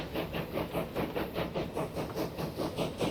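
A coal freight train running in the Transport Fever 2 video game, a steady rhythmic chugging with regular clattering pulses, fairly close and continuous.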